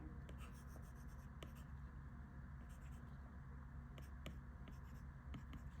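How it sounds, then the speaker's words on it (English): A pen draws a palm tree on paper, making faint, scratchy strokes in short bursts over a steady low background hum. "And I could draw more palm tree this way."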